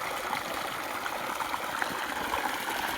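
Water pouring from a newly drilled 75-foot borewell, a steady rushing stream with a constant, moderately loud gush and no pauses.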